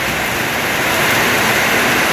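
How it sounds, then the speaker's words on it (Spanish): Heavy rainwater from a downpour in El Jabalí rushes along like a river, a dense, constant, loud roar of flowing water that holds steady throughout with no talking. "Así corre el agua, como que fuera un río"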